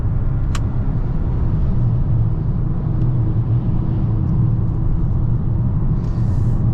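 A Mazda CX-90 family SUV rolls over a rough unpaved road, heard from inside as a constant low cabin rumble with faint tire and suspension noise and no talk.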